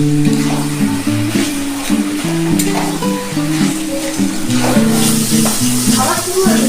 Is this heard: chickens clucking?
no